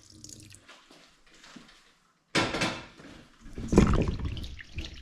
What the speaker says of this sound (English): I will put a little bit more water.